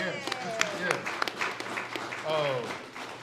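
Applause and cheering from an awards audience honoring a school cheer director, steady crowd noise with a few sharp claps and a voice rising through it over about three seconds.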